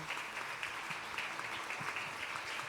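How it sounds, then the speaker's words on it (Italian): Church congregation at a thanksgiving service applauding the theatre group, a steady, fairly quiet wash of clapping from a crowd that holds evenly for a few seconds with no talk over it. "Possiamo fare un applauso a tutto il nostro gruppo di teatro."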